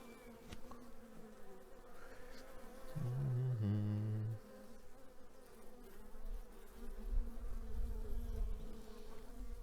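Honeybees humming on the frames of a nucleus hive in September, a continuous close buzz with one louder, deeper drone swelling briefly midway, and no talking.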